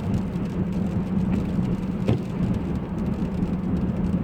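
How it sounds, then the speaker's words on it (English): Steady rain heard from inside a car driving the road from New Caney toward the Lynchburg Ferry, a continuous low rumble of tyres and engine with constant rain hiss and no voices. "Man, I wish it would stop raining."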